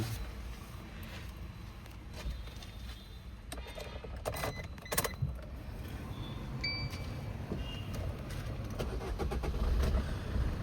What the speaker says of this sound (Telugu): వెహికల్ సింగిల్ సెల్ఫ్లో అయితే స్టార్ట్ అవుతుంది సార్